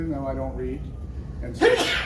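A single loud, sharp sneeze bursts out near the end, right after a person finishes speaking in a business discussion.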